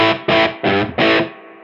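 Electric guitar through a RedSeven Amplification Alkemy overdrive pedal in hard clipping mode with the drive pushed and a boost in front, four loud, thick high-gain chord stabs in a choppy rhythm, the last one left to ring and fade.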